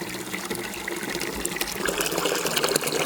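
Water pours steadily into a container to dilute a homemade garden fertilizer at a ten-to-one ratio, a continuous splashing fill that grows slightly louder and fuller toward the end, with no talking.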